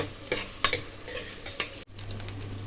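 A spoon stirs tomato pieces frying in a pan for gongura pulao, giving several scraping, clattering strokes over a steady sizzle, close up and with no talking.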